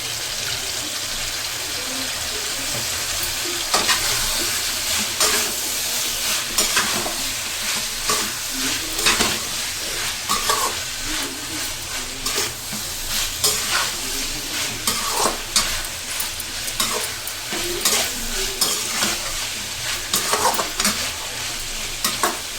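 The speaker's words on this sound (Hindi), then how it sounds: "ਐਡ ਕਰਾਂਗੇ ਇਹਦੇ 'ਚ ਸ਼ਿਮਲਾ ਮਿਰਚ ਇਹਨੂੰ ਵੀ ਆਲੂ ਦੇ ਨਾਲ ਹੀ ਭੁੰਨ ਲਵਾਂਗੇ" Bell pepper frying with potatoes in a pan, a loud continuous sizzle and crackle with repeated stirring scrapes of the spoon across the pan; no voices.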